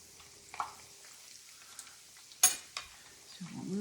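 Coconut shrimp frying in hot oil, a low, faint sizzle broken by a few sharp clatters and stirring knocks, with a louder splash-like burst near the middle and a brief low rumble toward the end.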